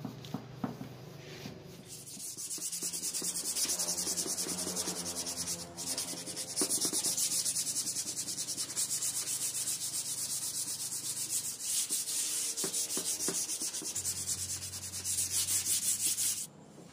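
Steady hand sanding with 320-grit sandpaper over a freshly brushed, varnished wooden door, a continuous rasping rub with brief pauses, close and fairly loud throughout.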